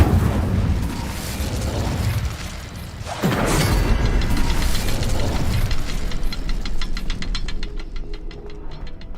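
A fiery Incendio spell cast in Hogwarts Legacy bursts out with a sharp whooshing blast, then a crackling, roaring burn that trails off with rapid flickering pops.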